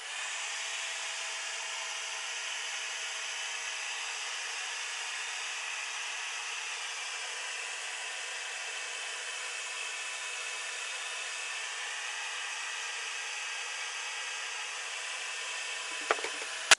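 A heat tool blows steadily and loudly to warm wax left on a mixed media art page, a continuous even whoosh of hot air that stops abruptly with a small clatter at the end.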